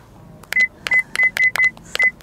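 A telephone number is dialed by hand: seven sharp DTMF keypad tones in an uneven rhythm, close and clear over a quiet room, with no talking.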